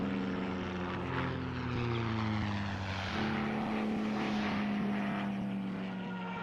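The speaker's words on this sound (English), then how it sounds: "The model airplane," A model airplane in The Rockin' Dead video game drones with a steady propeller buzz that shifts in pitch as it flies, loud and close, with no voices.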